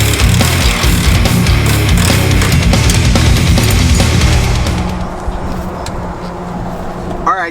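Road noise and engine rumble of a car being driven after a front end rebuild, loud and close inside the cabin, easing somewhat toward the end.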